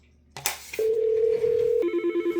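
A FreePBX phone system call to extension 102: a quick burst of dialing tones, then a steady electronic tone. It gives way to a loud, evenly pulsing ringback signal.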